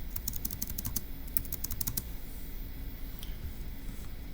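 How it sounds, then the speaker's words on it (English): A computer keyboard clatters in a quick run of close key presses for about two seconds, then a few scattered taps in a quiet room with no speech. "let's go ahead and type that up in our notes"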